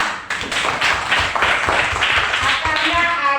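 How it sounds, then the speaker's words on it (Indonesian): A classroom group claps together during a lesson, a dense run of fairly close, rhythmic hand claps that carries on steadily for several seconds. "Oke, tepuk tangan."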